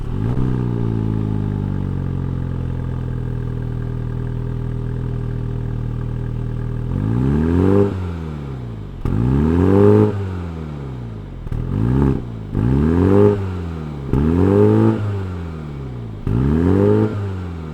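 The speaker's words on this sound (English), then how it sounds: "let's fire up this John Cooper Works and see what it sounds like" A 2020 Mini John Cooper Works convertible engine idles steadily, then revs repeatedly in sharp rising bursts, each blip of the throttle followed by a falling tone, loud and close.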